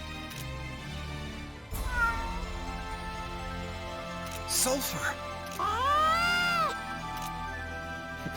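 Cat meowing in the video game Mana Khemia: a couple of drawn-out, wavering meows rising and falling, fairly close and clear over game music, with a character's voice line spoken before them.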